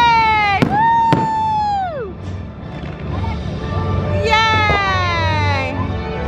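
Fireworks show at Epcot, Walt Disney World, with a couple of sharp bursts followed by whistling, descending streaks and a low rumble, heard among an outdoor crowd.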